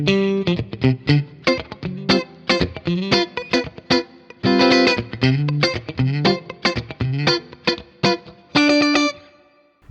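An Awesome Artist AS72 HSS electric guitar in Stratocaster-style pickup position 4, played as a run of plucked notes and strummed chords with a clean, effects-tinged tone, loud and close, ringing out alone before fading at the end.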